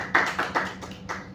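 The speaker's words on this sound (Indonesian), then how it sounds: "Oke, tepuk tangan." A few sharp, separate claps from a small classroom group, about four distinct bursts spaced unevenly over a quiet room background.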